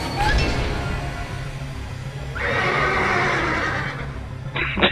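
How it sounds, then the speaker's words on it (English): A horse-like neigh rings out from a creature in the video game Parasite Eve 2, amid loud in-game noise, with a second whinny-like cry midway. "It sounds like a fucking horse!"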